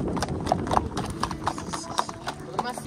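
A ridden horse clip-clops in a steady rhythmic gait, the hooves striking clearly and close, while someone talks over the footfalls.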